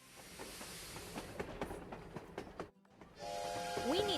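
Cartoon locomotive running on a railway track, with rhythmic clacking and hissing over a rumbling bed. A short gap is followed by a whistle-like tone, and a voice speaks over parts of it.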